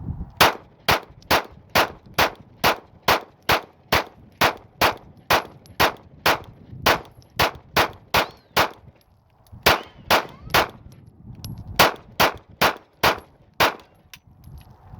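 A firearm fed from a KCI 50-round drum magazine fires a long rapid string of sharp, loud, evenly spaced shots, with one brief pause midway before the firing resumes.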